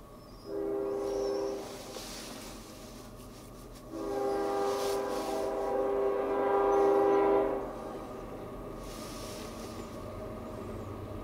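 CSXT engine 82 sounds its horn while hauling a coal train past, two long blasts over a steady rumble of rolling wagons and faint clickety-clack, fairly close and continuous with no voices.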